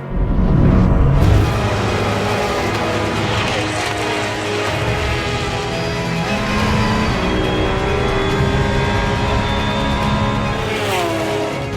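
Race cars roaring together at the start of the 2021 Le Mans 24 Hours, a dense, loud wall of engine noise with rising and shifting revs, sustained throughout without pause.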